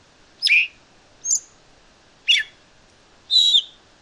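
Four clear, high whistled calls of a scaly thrush, spaced about a second apart, each short and slightly sliding, against a quiet background.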